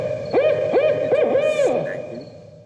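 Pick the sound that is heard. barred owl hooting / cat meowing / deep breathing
barred owl hooting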